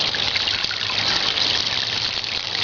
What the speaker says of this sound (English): you can see that it does function as a waterfall